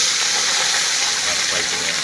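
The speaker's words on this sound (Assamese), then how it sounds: "তেল গৰম হৈ গ'ল এতিয়া মাছ দিলোঁ" Fish sizzles loudly in hot oil in a wok, a dense continuous hiss that holds steady for the whole stretch with no pauses.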